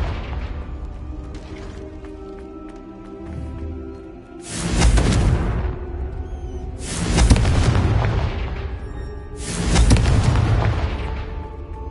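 Confringo spell explosions in the video game Hogwarts Legacy: three loud booming blasts a few seconds apart, each with a rumbling decay, following a stretch of busier game noise.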